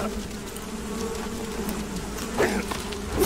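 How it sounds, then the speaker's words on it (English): A swarm of bees buzzes in the video game Metal Gear Solid 3, a dense, steady drone that fills the whole stretch, with a few louder swells near the end and no talking. "There's a hell lot of bees."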